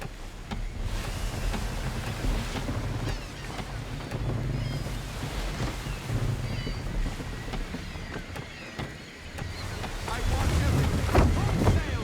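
A sailing ship running at full sail in the game Assassin's Creed III: steady rushing wind and water noise with a low rumble throughout, close and fairly loud, with occasional voices under it.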